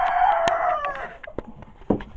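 A rooster crows once, loud and close, over the clucking of hens at a backyard poultry flock, and a few sharp clucks and squawks follow as the crow fades.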